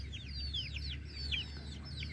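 Young chicks peep in quick, high chirps while farm hens cluck low and steadily underneath, a busy, continuous flock sound at close range with no talk.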